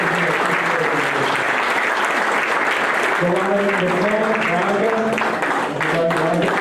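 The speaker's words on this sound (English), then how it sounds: "Keith Bedetti, let's get a round of applause for Keith." A crowd at an outdoor Arbor Day town event applauds steadily and loudly throughout, while a voice talks over the clapping.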